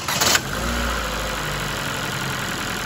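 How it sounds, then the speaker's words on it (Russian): A 1.6-litre engine in a 2013 Ford Focus 3 cranks with a brief, loud whir of the starter, then catches and settles into a steady, low idle rumble, heard close with no talking. "Запуск двигателя."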